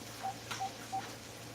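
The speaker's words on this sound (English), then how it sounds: "I'm gonna call the house phone." A house phone is dialed in a kitchen: three short, evenly spaced keypad beeps, faint and clean against a quiet background hum.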